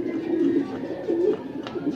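Racing pigeons coo at a loft during a fun race arrival at Batangas Port, several soft throaty coos in a row, close and clear.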